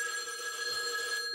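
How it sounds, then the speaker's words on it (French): Telephone ringing with a steady, bright electronic bell tone, sustained and fairly close with no pause across the short stretch and no voices over it. "le téléphone sonne"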